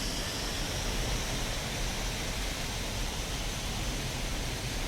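Simulated B-1 Lancer jet engines from Microsoft Flight Simulator 2024, a steady, broadband roar that holds evenly throughout with no talking.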